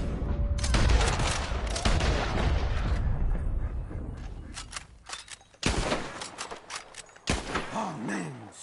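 Rapid gunfire from Red Dead Redemption II while shooting birds out of the sky, dense bursts of shots loud and close with a few separate cracks and gaps between volleys.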